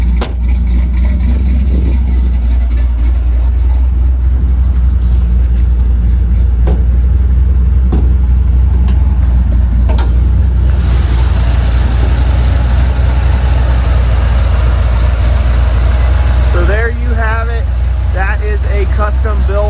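A custom-built Chevrolet 400 small-block V8 with a mild cam, in a restomod 1967 Chevrolet C10 pickup, idles with a loud, deep, steady exhaust rumble, close up and continuous, with faint voices in the background.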